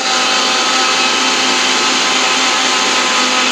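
A mixer grinder jar spinning at full speed, blending nuts and carrots with cool water into juice: a loud, steady high-pitched whirring drone, close and unbroken until it cuts off at the end, with no talk.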